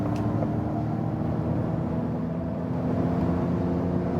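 Ford Mustang Mach-E electric car, 2021 model, accelerating hard from 100 km/h, heard from inside as a steady, loud cabin drone of road and wind noise with a low motor whir and no voices.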